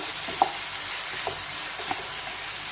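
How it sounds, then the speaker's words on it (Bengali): A spice paste of ginger, tomato and green chilli fries in a pan with a steady, soft sizzle, and a few light scrapes and taps of stirring break through. "মশলাটা ভাজা ভাজা হয়ে এসছে"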